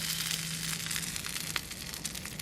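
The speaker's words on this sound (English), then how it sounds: "We're just going to sear the sides." Venison sears in a hot metal pan with a steady, close sizzle and crackle that holds for a couple of seconds, with a faint hum underneath.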